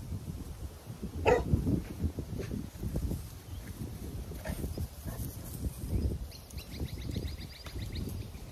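A dog barks at a lace monitor somewhere in the Australian bush, a few sharp barks rising over footsteps and rustling undergrowth, moderately distant, with birdsong faintly behind.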